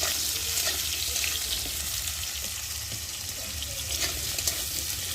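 Potatoes fry in a pan with a soft, continuous sizzle and faint crackles, fairly quiet and even throughout, with no speech.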